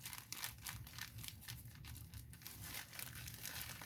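A thick black plastic butcher bag crinkles and crackles close up, in a steady run of dense rustling with no talking.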